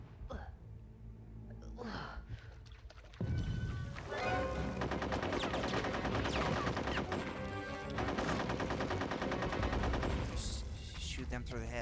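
Gunfire rattles in the Nintendo 64 game Conker's Bad Fur Day, with dense bursts of shots layered over loud game music and effects for most of the stretch.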